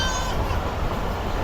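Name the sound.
Khyber Mail passenger train running on rails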